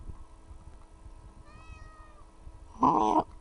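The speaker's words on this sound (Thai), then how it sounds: "แมว" A cat meows once in the horror video game Ao Oni, a loud, short, harmonic cry near the end, following a fainter high whine over a low ambient game backdrop.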